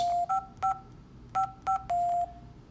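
Electronic 2GIG alarm keypad beeps: a quick series of short two-tone presses in an uneven rhythm, ending with one longer held tone, clear and close.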